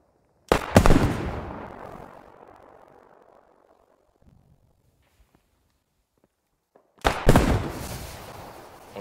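Two loud airsoft grenade blasts during a team attack-defense training exercise, one near the start and one near the end, each a sharp bang with a long decaying hiss and a quiet gap between them.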